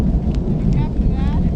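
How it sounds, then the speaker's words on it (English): Rolling thunder outdoors on a backpacking trip along the Ice Age Trail in Kettle Moraine South: a loud, continuous low rumble with faint voices briefly heard over it. "It looks like it's passing, but it's like a lot of thunder."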